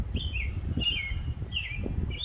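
A lone bird calls repeatedly, four short chirping phrases spaced evenly apart, clear and fairly close above a steady low outdoor rumble.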